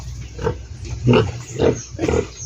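Pigs on a farm, just woken from their midday sleep after eating and bathing, grunt and snort in a run of four or five close, loud bursts at an uneven rhythm.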